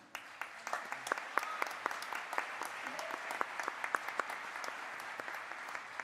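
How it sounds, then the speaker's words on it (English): An audience at an award ceremony claps, fairly faint and distant, with a scattered crowd of hands producing a continuous patter of individual claps. "I want to give a big applause to them."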